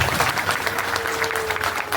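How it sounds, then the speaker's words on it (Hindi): A burst of vigorous, steady clapping rises from a seminar audience in Thane, many hands together at close range with no break. "मेरे लिए एक जोरदार ताली होनी चाहिए।"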